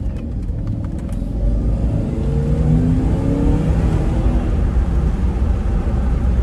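An L322 Range Rover with a V8 of about 400 horsepower accelerating hard: a deep, swelling engine roar that climbs steadily and stays loud to the end, with no talking.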